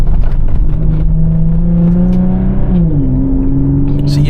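Infiniti G37 engine downshifting and then accelerating during a drive, a steady loud drone with the pitch dropping sharply at the gear change and then holding, with faint talk in the car.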